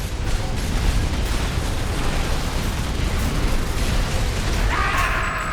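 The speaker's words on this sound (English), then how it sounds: "the explosion just knocked you right into the ground" A big explosion in the Armored Core 6 mech game, with a loud, sustained rumbling blast that fills the whole clip and then tapers into crackling debris.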